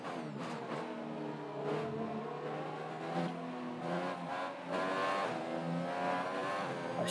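F1 race car accelerating in F1 2021, a steady, loud engine whine climbing in pitch through gear changes, with tyre noise mixed in throughout.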